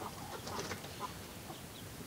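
Hens gathering at a new feeder made from a 10-litre canister cluck faintly in the background, soft and scattered over a quiet farmyard hush.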